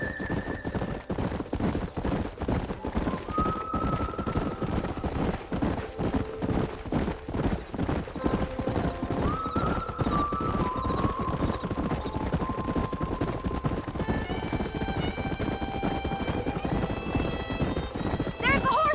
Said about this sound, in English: There's the horses!